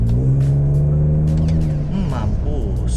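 BMW E39 528i wagon under hard acceleration, engine note rising steadily with a loud interior drone before easing off, heard from inside the car.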